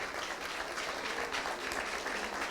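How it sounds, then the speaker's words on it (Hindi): Steady applause from a church audience at a gospel play, dense continuous clapping at moderate level throughout, with no talking over it. "ताली बजा दे क्या?"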